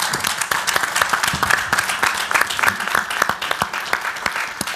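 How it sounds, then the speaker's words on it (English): Audience at a design competition conference closing session gives a round of applause, dense and steady clapping with sharp individual claps standing out near the front, continuous throughout. "So give these guys a good round of applause."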